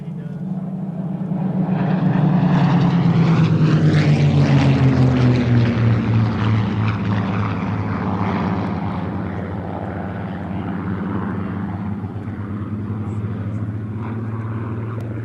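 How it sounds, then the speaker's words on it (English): Propeller warbird aircraft engines drone overhead at an air show, swelling loudly as the planes pass and then fading to a steady, distant hum. "he likes the sound of the warbirds"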